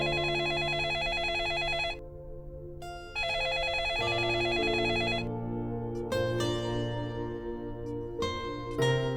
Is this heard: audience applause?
no